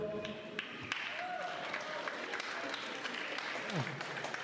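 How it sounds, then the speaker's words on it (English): Graduation ceremony audience applauding a graduate, a steady spread of clapping from a large hall with scattered sharper claps and murmuring underneath. "Round of applause."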